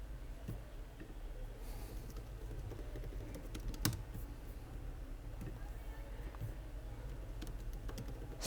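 Computer keyboard keys tapped steadily while writing code for a Codeforces programming solution, a close, continuous patter of soft clicks with occasional louder strokes.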